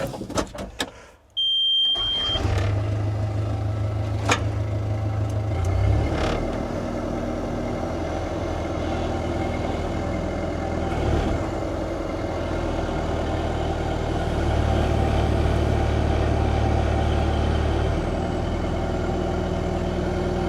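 A Caterpillar 311B excavator's diesel engine starts after a brief click, then settles into a steady, moderately loud idle with a constant low drone and faint whine.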